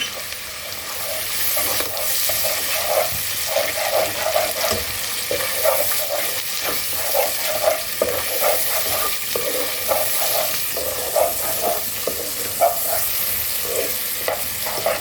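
Garlic and ginger paste frying in hot oil for mutton korma, a steady close sizzle with repeated scraping stirs at an uneven rhythm, no voices.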